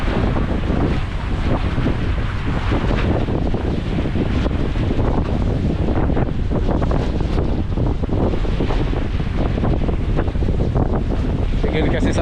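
Steady wind roaring and buffeting the microphone out on the open Pacific Ocean, aboard a boat, with a constant broadband rush and faint wave wash underneath, no clear talk.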